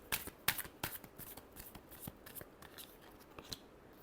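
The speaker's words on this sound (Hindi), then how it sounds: "Last shuffle." Tarot cards being shuffled by hand: a quick series of crisp, papery riffles and snaps, close and fairly quiet, with no voices.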